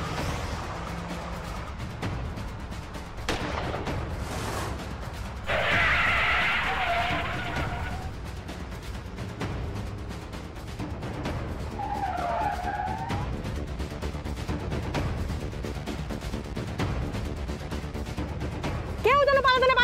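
Car tires skid and engines roar as a police car chases another vehicle, with sharp screeching bursts and a sweeping tonal whine partway through, layered with dramatic scoring while voices speak over the scene.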